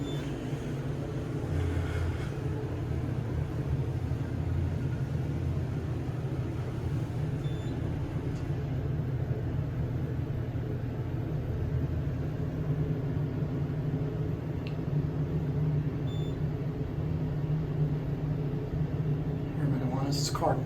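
A Dover Oildraulic hydraulic passenger elevator runs with a steady low hum and faint mechanical drone, heard from inside the cab for about twenty seconds, with occasional small clicks.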